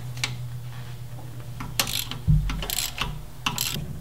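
A ratchet wrench works intake manifold nuts loose on a car engine, giving short bursts of clicking near the mic over a low steady hum, with a few louder clacks toward the end.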